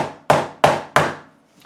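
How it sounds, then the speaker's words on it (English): The nylon face of a fret hammer taps a fret into the neck of a Shine SIT-700 neck-through guitar, three sharp, evenly spaced knocks with quick decays, close and loud, followed by a faint fourth touch. "I'm going to use a nylon side of a fret hammer, tap that edge in."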